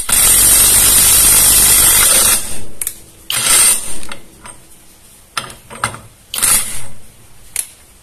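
An impact wrench set to 900 Nm hammers loudly and continuously for about two seconds, then fires several shorter bursts and rattling pulses as it works a bolt, close and harsh, with no speech.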